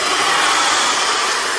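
An AINA brushless blow dryer with a BLDC motor runs at full speed, giving a steady loud airy hiss and whine that holds constant throughout with no voices.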